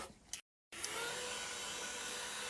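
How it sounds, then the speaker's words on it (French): A small handheld fan runs close by with a steady, even airy whir that continues unbroken after a brief moment of silence near the start. "si vous avez un petit ventilateur"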